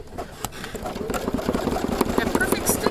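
A sewing and embroidery machine stitching the base of a rope bowl, giving a rapid, steady mechanical whirring with rhythmic needle clatter, loud and close throughout.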